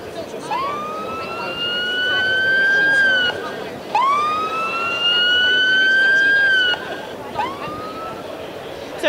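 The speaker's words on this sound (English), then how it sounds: "you can actually send a scream to it from any other GPS-enabled device, like an iPad or your home computer, so that you can find it." Lookout anti-theft app on a Kindle Fire sounds its remote scream alarm, loud rising electronic siren-like wails repeating about every three and a half seconds, three cycles in a row, close to the device.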